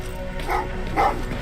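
Dogs in the video game Terminator: Resistance give two short woofing barks about half a second apart, heard at moderate distance over a low ambient game background.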